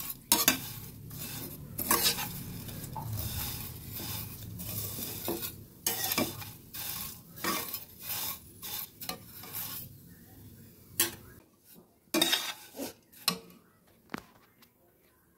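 Vermicelli (semai) frying slowly in a pan for sweet zarda semai, with repeated scraping stirs and clinks of a utensil against the pan over a light sizzle, pausing to near silence late on.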